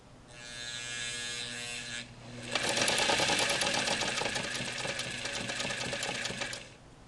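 A Singer 237 sewing machine motor whirs steadily, then surges louder and busier as the needle engages, running with a rapid mechanical chatter for several seconds before cutting off.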